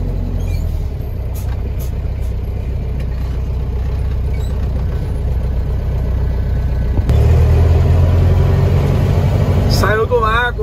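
Trucks in a convoy parade on September 7 idle with a deep diesel rumble, then grow louder as a heavier engine joins near the end, with people talking over the engines and a brief squeal at the close.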